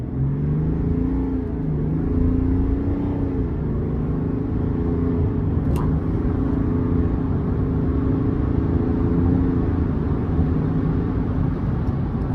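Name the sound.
GMC Sierra 1500 AT4 Duramax diesel truck accelerating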